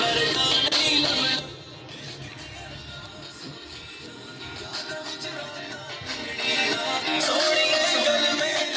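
Music plays steadily from an MDPACE mini slim Bluetooth speaker, full and continuous with no talking, dipping briefly in level before swelling back up.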